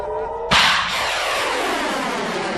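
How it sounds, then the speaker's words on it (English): An Iron Dome interceptor rocket blast cracks out as one loud, sharp boom, then rolls into a long, fading rumble of rocket roar and air explosion, heard from a distance. "All it does is send up rockets that explode in the air and don't actually intercept anything"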